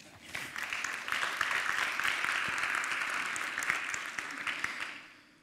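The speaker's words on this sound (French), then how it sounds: "Vous pouvez l'applaudir." Audience applause for a speaker at a French typography talk, a dense, steady wash of many hands clapping that swells quickly, holds evenly for several seconds and tapers off at the end.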